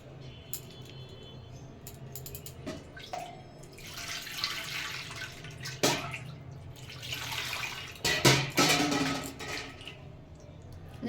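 Water poured and splashing over a small deity idol during its bath, with bursts of running, trickling water, a few drips and light metallic clinks between the pours, close by and without talk.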